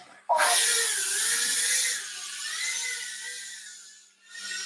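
Motors on a small FPV drone spin up in a backyard, a sharp rising high-pitched whine that holds, dips, swells again, briefly cuts out and then resumes, loud and close.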